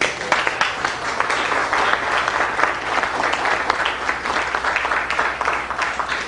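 A gathered audience gives sustained applause at a lecture, loud, dense clapping rolling on evenly throughout with no talk over it.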